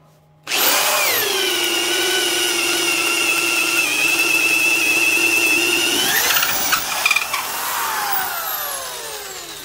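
A DeWalt 3/8-inch corded carpenter's drill spins up abruptly and whines loudly and steadily as it bores a 1-inch hole, pitch sagging slightly under load, then winds down with a few knocks and a fading tail.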